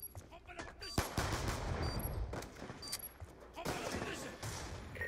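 Gunfire in a bomb-defusal round of a tactical shooter video game, with bursts of shots and sharp impacts spread across the clip over busy game sound, loud and fairly close.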